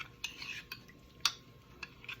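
Cornmeal mixed with water being stirred for Jamaican-style porridge, a utensil scraping and clinking against the bowl in a few scattered, fairly quiet strokes with no talking.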